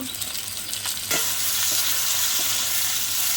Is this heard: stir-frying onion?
yes